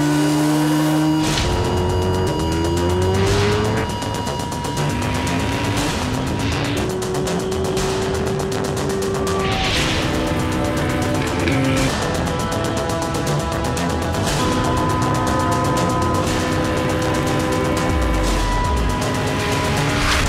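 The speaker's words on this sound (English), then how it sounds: "Supercharged Ninja H2R." Supercharged Kawasaki Ninja H2R motorcycle engine revving hard and accelerating through rising gear sweeps, loud, close and continuous for the whole span with no talk.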